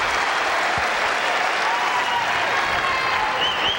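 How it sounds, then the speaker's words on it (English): Dense, continuous cheering and applause from a tennis crowd at the 2003 US Open semifinal between Roddick and Nalbandian, steady and fairly distant throughout. "You can hear the cheering."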